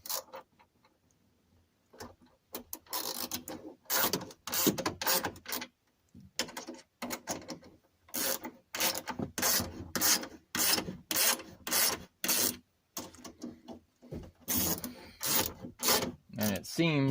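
Bolts being tightened down on a towing mirror installed on a 1998 Dodge Ram 1500, giving repeated close rasping and ratcheting bursts in quick rhythmic runs separated by short pauses, with no talk.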